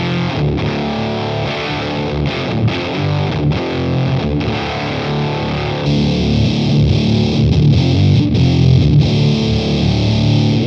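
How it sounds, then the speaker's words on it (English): An electric guitar played through a fuzz pedal with its sculpt switch engaged, from a Danelectro setup, giving a thick saturated tone that sustains steadily and grows slightly louder midway. "That is an epic fuzz."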